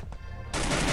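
Gunfire in the Free Fire video game: a faint shot, then a sudden loud burst of rapid automatic fire that continues to the end.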